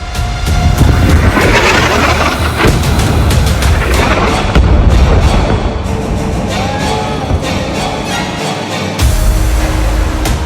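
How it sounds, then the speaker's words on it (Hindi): A smart bomb strikes and destroys a building in the Israel–Hezbollah war, giving loud, sustained booming rumble with crashing debris bursts throughout, the roar staying dense and heavy for the whole stretch. "स्मार्ट बम से पिन पॉइंट हमले में भस्म हो गई बिल्डिंग।"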